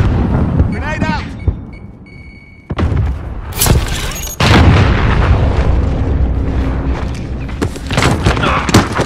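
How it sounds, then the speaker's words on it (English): A grenade goes off in Call of Duty: Modern Warfare, a sudden heavy boom followed by a long rumbling wash of debris and gunfire, loud and close, with radio-style voices and effects earlier. "Grenade out!"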